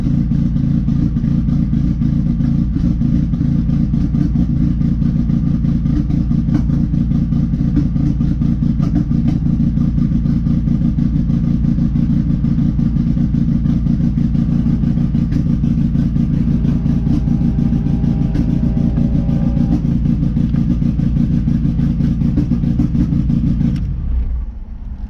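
A Volkswagen Jetta engine fitted with a Haltech Elite 1500 runs close by at a steady, loud, slightly rough idle with a dense low rumble and faint clatter, holding nearly unchanged for about 24 seconds before cutting off.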